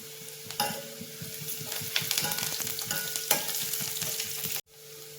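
Curry leaves frying in hot oil in a pan for tomato dal, a steady crackling sizzle with stirring, close and moderately loud, then a sudden cut to a quieter hiss near the end.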